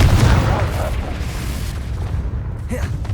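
Explosive Confringo spell blast in the game Hogwarts Legacy, a heavy low boom that opens loud and rumbles away over a few seconds, with a brief crackle near the end.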